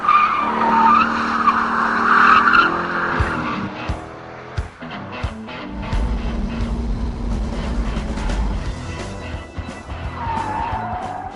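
A 2002 Chevrolet Corvette Z06 at speed on the Grattan track, engine roaring with shifts and revs, then tires squealing and skidding through a corner as the engine note drops and climbs again, loud and continuous.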